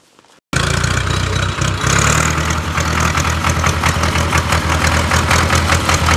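Farm tractor engine starting up at night and settling into a loud, steady diesel idle with a rhythmic knocking throb, close by, after a brief quiet moment.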